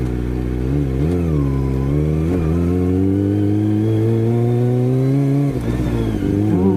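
A Kawasaki ZX25R motorcycle fitted with an Akrapovic exhaust revs up close by, rising and falling in repeated throttle blips with a rich, buzzy roar, then dips briefly before climbing again; no talking.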